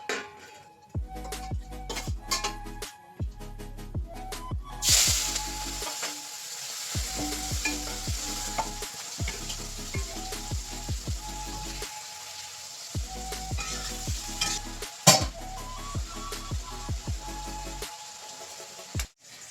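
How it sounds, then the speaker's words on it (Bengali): Shrimp frying in hot oil in a wok after tilapia, a continuous bright sizzle with repeated metallic stirring scrapes and clinks in short bursts, close and fairly loud, no talking. "এবার চিংড়ি মাছগুলো ভেজে নেবো"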